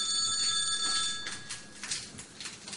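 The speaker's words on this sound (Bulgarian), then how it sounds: "Дигни телефона." A telephone rings with a high, trilling electronic bell, fairly faint and steady in an indoor scene, fading out partway through.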